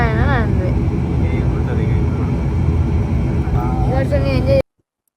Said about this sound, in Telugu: మొత్తానికి మేము ఎత్తు చూసిన టైం వచ్చింది ఫ్లైట్ టేక్ ఆఫ్ అవుతుంది